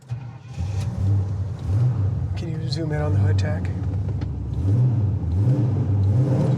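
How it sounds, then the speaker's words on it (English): A deep, rumbling V8 engine of a 1971 Pontiac GTO with stock-sounding dual exhaust idles steadily up close, its low throb rising and falling slightly, with someone talking over it. "this thing just sounds bone stock though. That dual exhaust."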